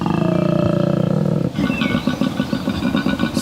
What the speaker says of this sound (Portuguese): um urro de um koala pode anunciar sua presença até 1 quilômetro de distância